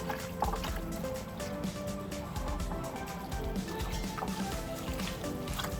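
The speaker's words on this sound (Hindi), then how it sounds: "अब मैं इसको मैरिनेट करती हूँ। ये देखें, इन सारी चीज़ों को अच्छी तरह से मिक्स करती हूँ।" Chicken marinade ingredients are worked together by hand in a bowl, giving a continuous wet squelching and sloshing with small drips, steady and close throughout.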